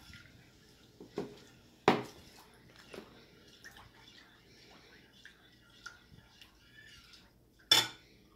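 Pineapple being cut with a knife on a board for fruit punch: sporadic sharp chops and scrapes, with two loud knocks, a few softer cuts, and faint wet sounds between, close by.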